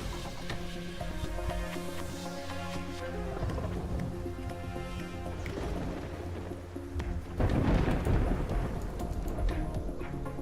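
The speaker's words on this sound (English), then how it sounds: "The thunderstorms don't seem to have like too many special things" Thunderstorm in the video game Terraria, with steady rain noise and low rumbling thunder under game music, building to a louder crash of thunder near the end.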